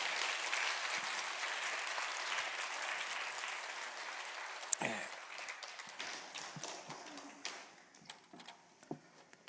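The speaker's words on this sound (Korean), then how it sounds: "우리 환영하는 의미에서 박수로 한번 맞이해 주시면 감사하겠습니다." A Korean church congregation in Orange County claps to welcome a guest preacher, loud sustained applause that thins out into scattered claps and taps, then fades toward near quiet by the end.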